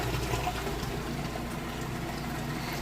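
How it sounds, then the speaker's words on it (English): A Crosley washing machine drains water during its rinse cycle, making a steady, faint rushing of water over a low pump hum with no pauses and no voices. "You can hear it draining that water out nice and fast."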